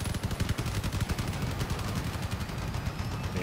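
Fifteen imp machine guns fire at once in a video game, a dense, continuous rattling barrage of rapid overlapping shots, loud and close throughout with no pauses.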